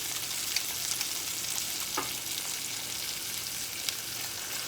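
Onions and doctored-up broth sizzle and fry steadily in a pan for liver and onions gravy, with a few light scrapes of stirring over the continuous crackle.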